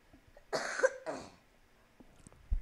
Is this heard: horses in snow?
no